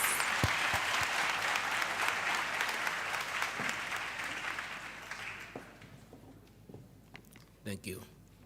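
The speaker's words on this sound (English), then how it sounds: "May we please give him a much bigger round of applause." An audience at a university campus safety programme event applauds in a dense burst of clapping that fades out over several seconds, leaving a few scattered sounds and brief handling noise.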